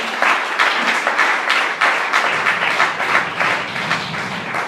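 A church congregation applauds the Lord during a French-language sermon: steady, dense clapping from many hands, loud and continuous throughout.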